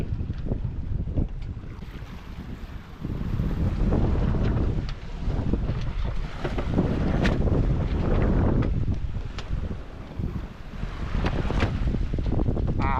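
Sail flapping and slapping aboard the sailboat Tabasco in strong wind and heavy swell at sea, with gusty wind buffeting and irregular loud cracks over a constant rushing roar.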